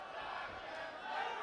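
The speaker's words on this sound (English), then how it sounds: "Crowd getting behind Dijak." An indie wrestling crowd roars in support of a wrestler during a match. The cheer is a sustained, dense wall of voices, rising slightly near the end of the short stretch.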